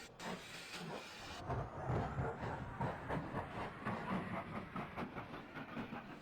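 A steam locomotive in the video game Trainz chuffs steadily along with a rhythmic clattering beat, a brief burst of hissing at the start, heard up close and fairly loud.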